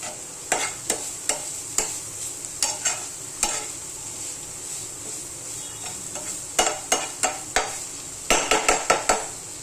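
Dried fish and onion frying in a pan for a rustic village dish, with a steady hissing sizzle under repeated sharp scrapes and clinks of a spatula stirring against the metal, near and fairly loud.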